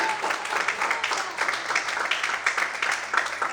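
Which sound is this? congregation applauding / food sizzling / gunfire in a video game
congregation applauding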